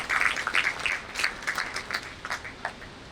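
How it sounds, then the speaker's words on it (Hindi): Audience at a college talk series clapping to welcome speakers on stage, a thin, uneven patter of scattered hands rising and falling in short bursts rather than a full ovation. "जोरदार तालियों से इनका स्वागत कीजिए।"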